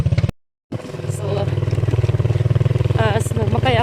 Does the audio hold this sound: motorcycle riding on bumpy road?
yes